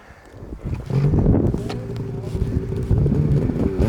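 A brand-new snowmobile revs up and pulls away, its engine building to a loud, steady drone with rough mechanical rattle and wind buffeting over the microphone.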